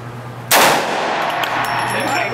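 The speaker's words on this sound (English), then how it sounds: "slow steady squeeze on the trigger and just hang on to it" A single loud Desert Eagle pistol shot cracks out abruptly after a brief quiet lead-in, with a sharp ringing decay that lingers afterward.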